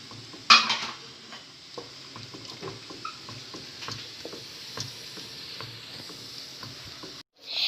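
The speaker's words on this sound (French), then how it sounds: "On mélange encore pour avoir la sauce béchamel." Béchamel sauce of one spoon of butter and two spoons of flour being stirred in a pan for lasagne: soft, steady scraping and tapping of a spoon, a quiet sizzle beneath, and a louder clank near the start.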